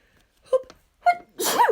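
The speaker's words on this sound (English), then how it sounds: "Sneeze." Someone sneezes loudly up close after a couple of sharp preparatory inhalations, alone in a quiet room.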